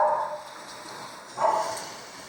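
Puppies on a morning stroll in Peru give two short yipping barks, the first at the start and another about a second later, moderately close against outdoor background noise.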